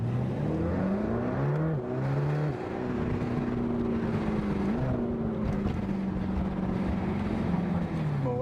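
A Mercedes-AMG GT Black Series accelerating hard, its engine note rising and shifting through gears in a loud, steady drone heard from inside the car.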